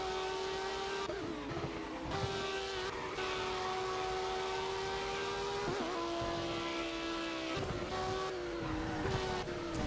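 A Dodge Viper ACR X spins out on sticky grass in World of Speed, its engine droning steadily with pitch wobbles and dips as the car loses grip, loud and continuous throughout.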